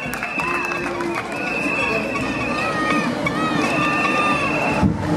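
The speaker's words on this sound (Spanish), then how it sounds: "Fuertes los aplausos para el profesor." A crowd at the opening ceremony of a school sports games in Chancay cheers and applauds, with shouting children and whistle tones over dense clapping. Voices talk through the noise.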